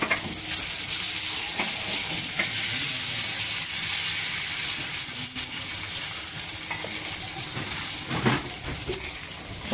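Fresh pomfret fish fry in a pan, a dense, steady close sizzle and crackle that runs without a break, with occasional faint clinks and scrapes under the hiss.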